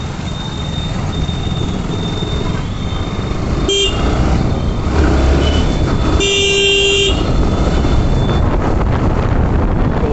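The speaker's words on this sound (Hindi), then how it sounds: "तो आप सब देख सकते हैं ट्रैफिक काफ़ी है यहाँ पे" Heavy road traffic heard from a moving NS160 motorcycle, with steady engine and wind roar and two short bursts of car horns honking nearby.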